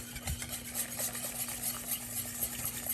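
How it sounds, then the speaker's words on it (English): Keto brownie batter with dark chocolate being mixed in a bowl, a close, continuous soft scraping and swishing with light clicks from the utensil, steady throughout. "So we're going to mix that all up in there."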